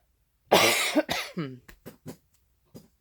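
A harsh, loud cough close by, followed by several smaller coughs trailing off in a ragged rhythm, with a last faint one after a pause.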